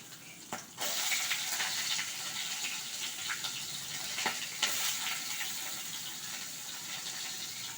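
Chopped onion tipped into hot oil with dried red chillies, bay leaves and whole garam masala (cardamom, cloves, cinnamon), a sudden sharp sizzle after a clatter that settles into steady bright crackling with small pops.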